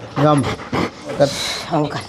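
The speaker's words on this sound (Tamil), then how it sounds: "வெயிலில் எப்படி மூச்சு வாங்குது பாரு" A dog pants after being out in the hot sun, quick rhythmic breaths close by, mixed in with a person's voice.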